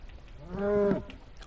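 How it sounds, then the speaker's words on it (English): A single loud, drawn-out moo from a cow in PS4 Minecraft survival mode rises out of quiet background noise, close and clear. "Why do the cows suddenly sound so amplified and focused?"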